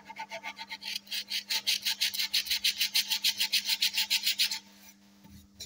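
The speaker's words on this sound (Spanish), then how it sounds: "Ahora se lija con precisión milimétrica." Rhythmic back-and-forth scratching of sandpaper on wood by hand, restoring a wooden bench, about twenty quick even strokes, close and clear, then stopping.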